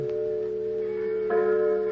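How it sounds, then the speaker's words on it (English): A church bell tolls as a sound effect in an old-time radio drama, sustained ringing tones that swell with a fresh strike partway through, steady and fairly loud with no talking. "I heard the tolling of a church bell"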